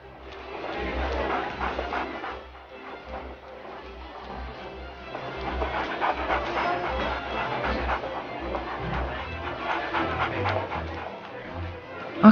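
A two-legged dog panting in quick rhythmic breaths on a city street in Oklahoma City, steady and close, with low rumbling background noise.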